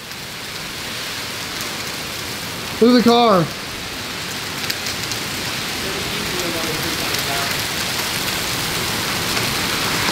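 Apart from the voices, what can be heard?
hail and heavy rain storm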